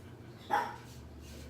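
A single dog bark indoors, one short sharp yap rising above a quiet background hum.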